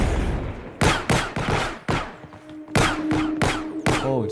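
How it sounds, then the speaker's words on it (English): Gunfire in an Unreal Engine video game cracks out in a rapid series of sharp, loud shots with short gaps, while a faint steady tone hums underneath. "I think I'm invincible to gunfire."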